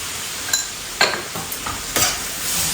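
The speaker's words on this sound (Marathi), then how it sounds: "त्यानंतर तेजपत्ता दालचिनी वेलची काजू या दोन लाल मिरच्या आणि मीठ" Whole spices, bay leaf, cinnamon, cardamom, cashews and two dried red chillies with salt sizzle and get stirred in a pan, with a few brief scraping bursts of stirring over a steady frying hiss.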